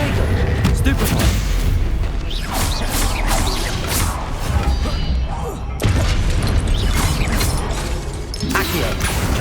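In the Hogwarts Legacy video game, a Stupefy spell is cast during combat. It comes as a loud, dense burst of magical blasts, booms and whooshes layered over continuous battle noise with no pauses.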